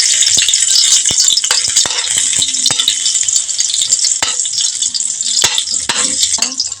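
Onion dropped into hot cooking oil for chicken adobo, a loud crackling sizzle with rattling pan and utensil clicks, close and busy throughout.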